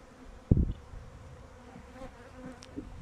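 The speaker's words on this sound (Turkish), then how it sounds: "Şuralar hep arı." A honeybee swarm drifts through the air around branches where it has failed to settle, a low, faint, wavering buzz under a brief louder knock near the start and scattered small rustles.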